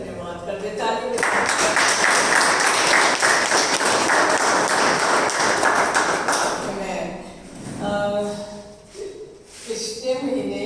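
A church congregation bursts into loud, sustained applause to give thanks, dense clapping filling several seconds before fading out, with a voice speaking once it dies down.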